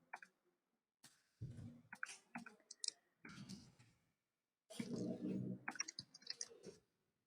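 Keys tapping on a computer keyboard in a classroom lesson setting, with short bursts of clicking separated by pauses, close and moderately quiet with no talking.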